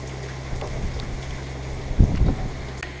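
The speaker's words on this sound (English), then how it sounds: "there's some wind gusts here and there" Wind buffets the microphone with low rumbling gusts at the beach in Surfside, South Carolina, before Hurricane Matthew, one stronger blast about two-thirds through, over a steady outdoor hum.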